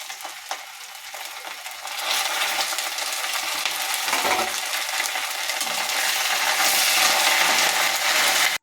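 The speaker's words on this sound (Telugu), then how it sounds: "ఇప్పుడు కట్ చేసుకున్న పచ్చిమిర్చి వేసుకోవాలి ఎండుమిరపకాయలు కరివేపాకు" Green chillies, dry red chillies and curry leaves fry in hot oil with peanuts for a tempering, making a bright, continuous sizzle with faint stirring clinks that grows louder partway through.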